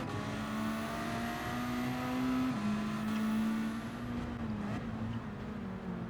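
Race cars including a Lamborghini in Gran Turismo 7, a loud close engine holding a high, steady whine that shifts pitch with gear changes and throttle, with other cars faintly around it and no talk.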